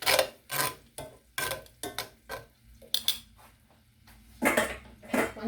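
Seasoning for shrimp being mixed in a bowl: a run of close, uneven clinks and scrapes, some sharp and some softer, with brief pauses between strokes and no talking.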